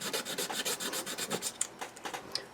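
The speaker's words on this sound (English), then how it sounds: "sanding away" Rhythmic sanding strokes rasp back and forth on a plastic 1/700 model ship part, close up and steady, with no talking.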